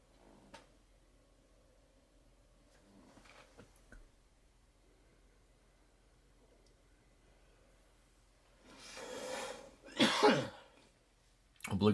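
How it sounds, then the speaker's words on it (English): Two or three harsh, breathy coughs come close together near the end, after a long quiet stretch with faint rustling, following a pull from a disposable vape. "Obligatory cough."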